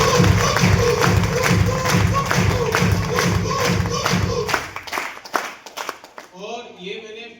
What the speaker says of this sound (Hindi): मैं चाहूंगा ग्रेट मागुरी जी के लिए सबसे जोरदार ताली होगी